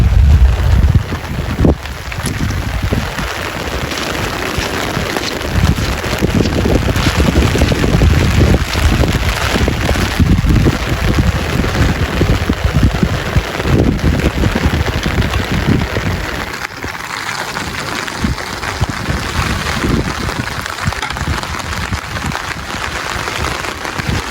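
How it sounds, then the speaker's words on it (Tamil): Steady rain falls in Jaffna during a days-long downpour, a dense continuous hiss and patter with strong wind buffeting the microphone throughout, loud and close with no voices. "யாழ்ப்பாணத்தில் இப்போ ஒரு ரெண்டு மூணு நாளாக மழை பெய்து வந்துருக்கு"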